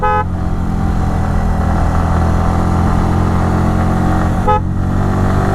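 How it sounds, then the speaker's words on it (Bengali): A Yamaha R15 V3 motorcycle is ridden on a quiet road at Shindukchari, its engine droning loud and steady at close range, with a brief horn toot at the start and another near the end. "আমি এখন একটু আমার মন মতো বাইক চালাইতেছি"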